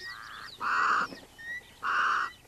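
Crows give two loud, harsh caws separated by a short pause, with fainter calls in between, near a Kori bustard.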